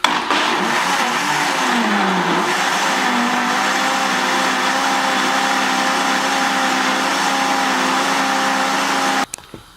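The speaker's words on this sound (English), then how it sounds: "So I've just finished blending the soup or whatever, the mixture." A loud, steady blender motor whir, blending soup mixture for a vegan stew, runs almost unbroken, with a pitch that dips and settles, then cuts off abruptly near the end.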